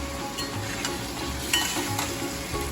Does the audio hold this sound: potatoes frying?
yes